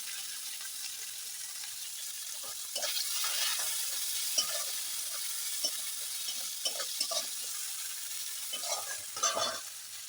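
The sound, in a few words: onion and chopped green chili frying in a pan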